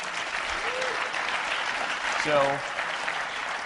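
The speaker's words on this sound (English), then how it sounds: "Yeah, no, we can clap for that." Audience applause at a talk on swarm robotics, a steady patter of clapping throughout with a brief spoken word from the stage partway through.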